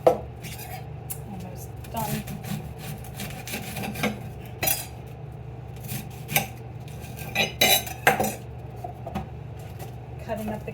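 Cabbage being cut up for sauerkraut in a kitchen, a scatter of sharp knife-on-board chops and clinks of dishes and utensils over steady background noise, with irregular bursts rather than a steady rhythm.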